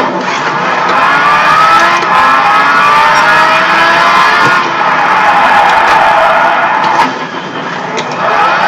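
A Lamborghini engine in the Gran Turismo video game roars loud and continuous, revving and shifting pitch as it drives, with a faint crowd-like wash behind it.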